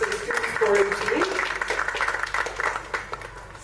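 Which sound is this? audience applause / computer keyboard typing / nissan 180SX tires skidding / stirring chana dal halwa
audience applause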